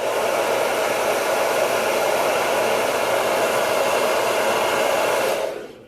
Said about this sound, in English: The blow dryer is going to take care of that.